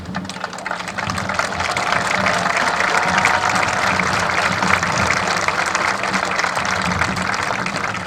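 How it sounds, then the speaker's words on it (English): Steady, dense applause from a large audience at a graduation commencement, a continuous roar of clapping hands that holds at full strength throughout. "May I kindly ask the audience to hold their applause"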